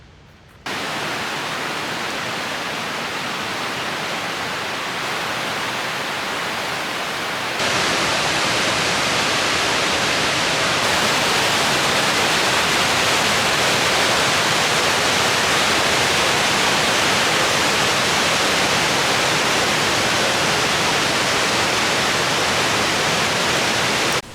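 Goðafoss waterfall in north Iceland roars as a steady, dense rush of falling water, loud and continuous throughout, with no voices.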